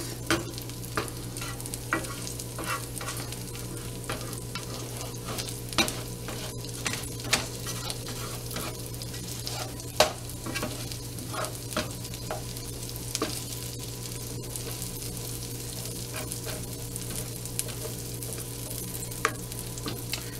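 Cajun shrimp frying in a skillet with bacon and garlic, a steady close sizzle running throughout with scattered small pops and crackles and no voices.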